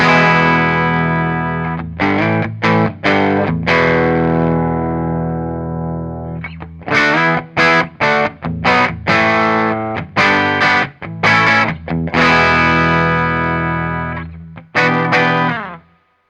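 An electric guitar played loud through a Fender Hot Rod Deluxe III amp, with distorted, effects-laden chords and riffs in bursts separated by short stops, ringing with chorus and a touch of echo.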